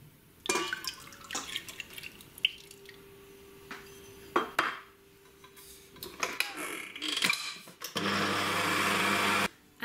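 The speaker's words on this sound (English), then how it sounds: "First step is to mix my egg whites until they're stiff." An electric mixer whips pasteurized egg whites to stiff peaks for strawberry meringue cookies. Scattered kitchen clatter and clinks come first, then a loud, steady whirring drone fills the last two seconds. No one speaks.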